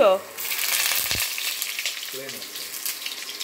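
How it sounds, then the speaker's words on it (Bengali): Potato pieces seasoned with salt and turmeric fry in a pan, a close, continuous sizzle with bursts of crackle. A voice speaks briefly at the start and again around two seconds. "আলুটাকে ভেজে তুলে নেওয়া হবে"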